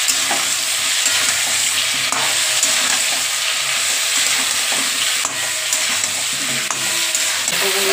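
Cauliflower and potato pieces frying in a pan, a continuous bright sizzle with occasional scraping stirs and clicks, close and steady with no voices.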